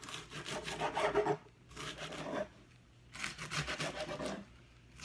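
A knife slices through tightly rolled collard greens on a cutting board, giving two bursts of close, raspy rubbing cuts separated by brief pauses, with no talk.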